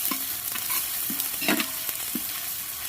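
Ginger paste fries in a pan with a steady broad sizzle, broken by a few soft scraping stirs of a spatula; no one speaks.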